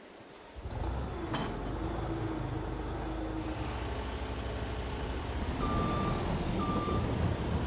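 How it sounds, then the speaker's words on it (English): Repeated reversing beeps from a skid steer in Farming Simulator 22 sound over a steady, loud engine drone, with a second run of beeps near the end. "We'll just go get the skid steer."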